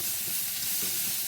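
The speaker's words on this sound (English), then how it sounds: "I'm just going to cook this until the onions start to soften." Onions and bacon sizzling steadily in a pan for an Amatriciana sauce, a continuous close, even frying hiss with no talk.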